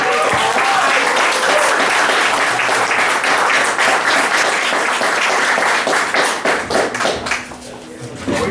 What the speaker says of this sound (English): Now you can clap again.